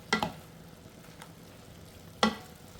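Tomatoes sautéing with beef in a pan, two short scraping stirs about two seconds apart over a faint, steady sizzle, with no talk.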